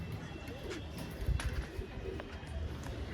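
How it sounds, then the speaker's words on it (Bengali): Soft pigeon cooing rises from a steady murmur of background noise, faint and low, with a few muffled bumps and no clear talking. "জাস্ট দেখুন আপনারা পায়রা"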